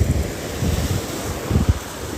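Ocean surf at Pantai Tok Hakis beach in Malaysia, low rolling waves breaking in soft pulses under heavy wind buffeting the microphone, fairly loud and close, without speech.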